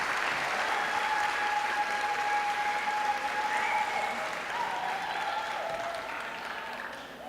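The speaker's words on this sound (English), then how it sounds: "Please join me in one more round of applause for our student speakers, Celia, Erickson, and Camilla." An audience at a school promotion ceremony claps for student speakers, a sustained wash of applause that holds steady for several seconds and then slowly thins and fades toward the end.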